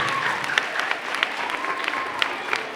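Audience applause after a children's council presentation in Masnou, sustained dense clapping from a room of listeners, steady and moderately loud throughout.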